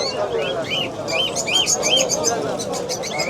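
Many small birds chirp and tweet in quick, bright bursts at the Sabunchu bird market, with a dove cooing somewhere among them, all over a steady murmur of crowd noise.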